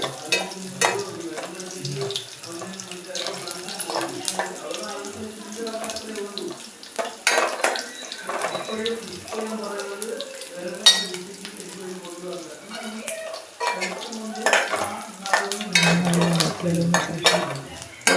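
Ginger and garlic sizzle in a pan for Kerala moru curry, with clinks of a pot and utensil, stirring and a brief splash of water, all close and busy with no talking.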